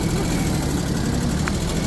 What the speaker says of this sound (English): The sound is not good. I think it has engine problem.